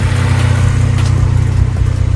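A Honda K-series K20 car engine idles steadily through its exhaust, a close, continuous low rumble with a slightly uneven, noisy character and no talking over it.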